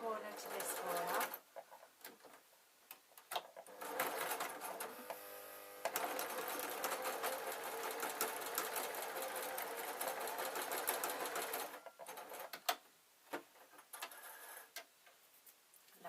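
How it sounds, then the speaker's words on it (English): A sewing machine stitches two quilt pieces together corner to corner, running in a steady, even burr for about eight seconds after a few short starts, with a voice speaking nearby before and after. "I am going to sew from this corner to this corner"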